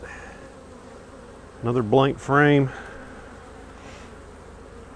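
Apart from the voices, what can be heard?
bees buzzing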